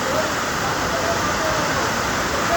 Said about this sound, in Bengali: দেখছেন বলতে না বলতে হঠাৎ করে বৃষ্টি নেমে গেছে